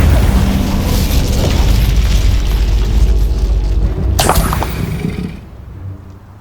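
Incendio fire spell in Hogwarts Legacy, a loud roaring, crackling burst of flame with heavy low rumble that holds steadily, snaps sharply near the end, then quickly dies away.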